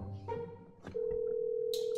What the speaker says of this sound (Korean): 전화하고 있는데?